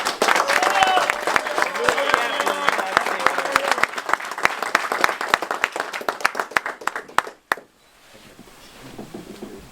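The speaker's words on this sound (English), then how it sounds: "Oh, round of applause." A small group claps after a US Army promotion ceremony to captain in Germany, close, distinct handclaps with lively talk and laughter mixed in, thinning to a few final claps before quiet.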